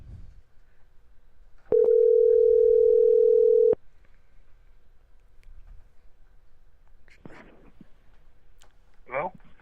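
A steady telephone dial tone sounds for about two seconds as a call is placed to a podcast guest, framed by soft clicks, with someone talking faintly before and after it.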